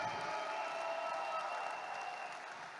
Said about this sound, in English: Can we give our RIWAY leaders a round of applause today?